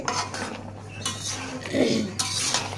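A metal spoon scrapes and clinks against a pot of bottle gourd and fish head curry in a few short bursts, with quieter gaps between the stirring strokes.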